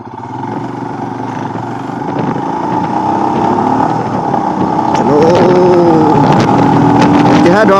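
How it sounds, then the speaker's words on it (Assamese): A motorcycle is ridden along a road, its engine droning steadily and rising in pitch as it speeds up, with wind buffeting the microphone and a rider's voice talking over it. "এতিয়াহে দৌৰাব পাৰিছোঁ অলপ বাইকখন পাই।"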